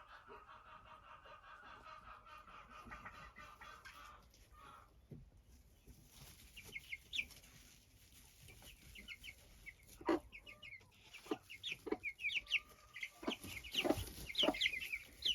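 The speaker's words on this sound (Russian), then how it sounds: "И опять у меня много петушков." Chickens and young roosters cluck and call inside a chicken coop, with faint quiet sounds at first and then a run of sharp, fairly close clucks and squawks growing louder toward the end.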